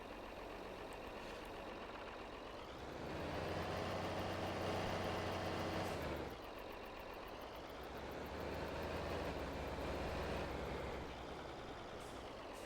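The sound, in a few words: tractor engine while backing up slowly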